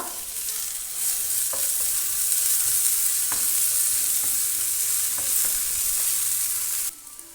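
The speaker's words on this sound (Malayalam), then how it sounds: "ഇനി ഇതിലേക്ക് നമ്മൾ ചതച്ച് വെച്ചിരിക്കുന്ന വെളുത്തുള്ളിയുടെയും ഇഞ്ചിയും കൂടെ ചേർത്ത് കൊടുത്തിട്ട് ഇതിൻ്റെ പച്ചമണം മാറുന്നവരെ ഒന്ന് വഴറ്റി കൊടുക്കുക" Crushed garlic and ginger paste sizzles steadily in a hot pan, a continuous bright frying hiss broken by a few soft stirring scrapes, close up and with no voices.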